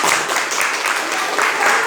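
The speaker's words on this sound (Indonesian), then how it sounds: "Ya, tepuk tangan dulu nak." Students in a classroom applaud a classmate's answer with a dense, continuous wash of clapping, close and fairly loud, with voices mixed in.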